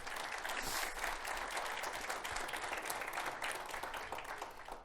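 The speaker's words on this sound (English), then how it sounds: "I want to have everyone give a big round of applause to all our presenters today." A conference audience at an oil and gas session on the PI System gives its presenters a dense, continuous round of applause, many hands clapping at once, heard from some distance.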